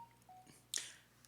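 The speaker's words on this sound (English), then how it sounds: "sorry, that's my phone." Short electronic phone tones from a mobile phone, a couple of quiet beeps followed by a brighter chime-like notification burst, faint and brief in a quiet room.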